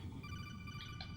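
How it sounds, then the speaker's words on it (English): Codec call ringing in the PlayStation game Metal Gear Solid, a steady electronic ring with repeating high tones, loud and close for about a second with no talk over it. "Every time I try and do something, that fucking phone goes off."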